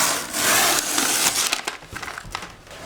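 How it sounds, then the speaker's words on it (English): A metal hand file grinds down the edge of an incubator door with loud, continuous rasping strokes, close up, easing into shorter scraping passes toward the end. "we take your door and grind it down right here with a file"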